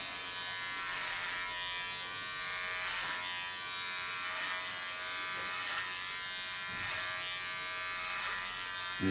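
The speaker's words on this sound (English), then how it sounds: "Take my Chiquione clipper." An electric hair clipper buzzes steadily while cutting hair, with recurring crisp snipping bursts every second or two as it passes through the hair, close and clear without talk.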